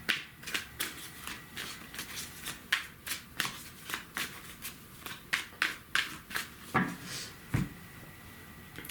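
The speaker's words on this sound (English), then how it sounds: "I'm gonna pull 5 cards." Tarot cards being shuffled by hand, a close series of crisp riffling bursts and soft flicks repeating in an uneven rhythm, with no talking.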